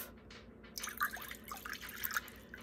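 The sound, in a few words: hot water poured into a crock pot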